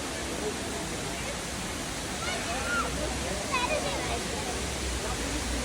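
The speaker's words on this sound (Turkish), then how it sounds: "Burası şelale." Waterfall under plane trees beside a roadside stop, a steady broadband rush of falling water close by and fairly quiet, with faint voices mixed in.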